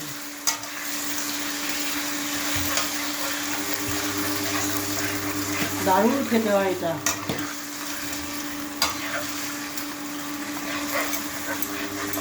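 Chicken marinated in yogurt and salt fries in a pan over full gas, a low steady sizzle with occasional scrapes, while someone speaks briefly and a short whining tone rises midway.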